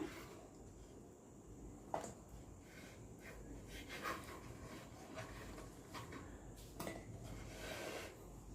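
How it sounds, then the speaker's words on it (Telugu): A knife trims the edges of rolled wheat flour dough, rolled to chapati thickness, giving faint, sparse clicks and taps against the board over a quiet room hiss. "ఇప్పుడు ఎడ్జెస్ కట్ చేసేస్తున్నాను."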